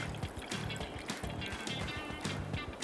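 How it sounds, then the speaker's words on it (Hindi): Half a cup of water poured into a simmering potato curry (aloo tarkari) in a cooking pot, a steady liquid splash and trickle running continuously for about three seconds, close and moderately loud, with no talking. "1/2 कप मैं पानी डाल रहा हूँ इसके अंदर"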